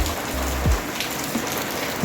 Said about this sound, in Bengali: বন্ধুরা কত বৃষ্টি নেমে গেছে